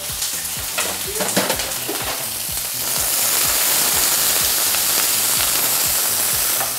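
Onions, green pepper and garlic hit hot oil and sizzle loudly, a dense crackling hiss that swells and holds steady, with occasional scraping stirs and clinks of a utensil.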